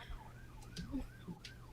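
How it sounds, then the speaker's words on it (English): A faint ambulance siren wails in the distance, its rising and falling tone low under background noise. "Did you guys hear the ambulance?"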